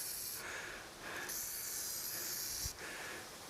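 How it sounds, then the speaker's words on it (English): Close bursts of WD-40 spray hiss onto a rusted Ford tractor seat mounting during seat replacement, three or four short sprays separated by brief pauses, with no talking. "Gary's just giving it a swim in WD-40."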